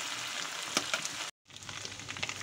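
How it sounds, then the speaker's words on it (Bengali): Ginger garlic paste frying lightly in oil, a dense continuous sizzle with a few crackling pops, briefly cut off by a moment of silence before resuming. "এবার আমি আদা রসুনটা তেলের মধ্যে হালকা একটু ভেজে তারপর অন্য মশলাগুলি দেব"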